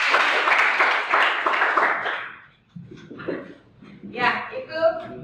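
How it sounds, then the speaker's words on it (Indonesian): A classroom of students gives a brief round of clapping for a classmate, a dense patter for about two seconds that fades out before people start talking. "tepuk tangan dulu buat teman"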